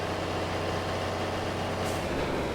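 A vintage Ford Model A truck engine idles close by, its exhaust lacking a can or rain cap, giving a steady, low, even rumble that stays unbroken throughout with no voices.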